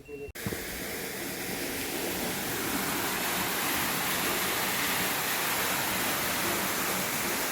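Water gushes with a loud, steady roar from a farm borewell, a continuous broadband rush that starts abruptly after a brief moment and holds without pause.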